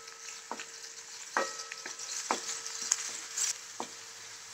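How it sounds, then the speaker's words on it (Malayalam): Finely chopped ginger and garlic sizzle and fry in hot coconut oil in a pan, with a steady crackling hiss broken by occasional stirring scrapes and sharper pops, close up with no talking. "ഇഞ്ചി ചെറുതായിട്ട് അരിഞ്ഞത് 1 ടീസ്പൂൺ, വെളുത്തുള്ളി ചെറുതായിട്ട് അരിഞ്ഞത് 1/2 ടീസ്പൂൺ എന്നിവ ചേർത്ത് ജസ്റ്റ് ഒന്ന് ചുവപ്പിച്ചെടുക്കുക"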